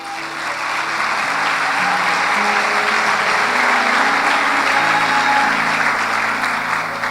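A church congregation applauds during a worship service, loud sustained crowd clapping that fills the space evenly, with organ-like sustained musical tones underneath.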